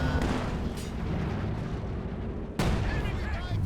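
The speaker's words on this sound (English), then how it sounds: "Another incendiary barrage over here." An incendiary artillery barrage rumbles through a Company of Heroes 2 match, heavy booms and crackling bursts over a constant din with one sharp impact near the end, under commentary.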